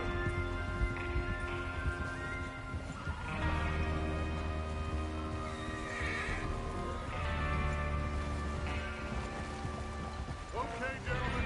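Horses neigh and whinny in Red Dead Redemption 2 as a gang readies to ride out, several calls over a steady bed of outdoor ambience and faint hoof movement, with distant voices.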